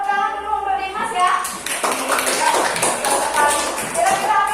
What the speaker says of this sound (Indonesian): Nah, kasih tepuk tangan dulu untuk Dimas ya.